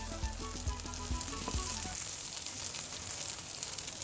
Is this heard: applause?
no